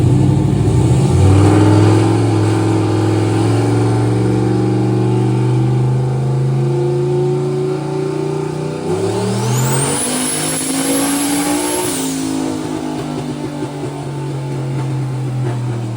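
A car fitted with a very cheap turbocharger revs hard, the engine note climbing loud and steady, then a high turbo whine rises and holds for a couple of seconds before easing off, close and with no talking.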